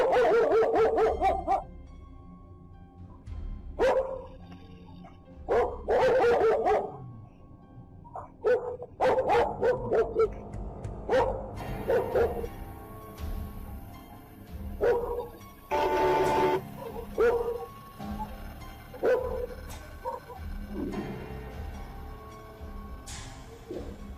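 Several dogs bark frantically in repeated bursts on a security camera recording, the barks loud and close, with short pauses between volleys and a steady background hum.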